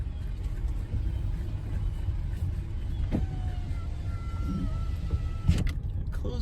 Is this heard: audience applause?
no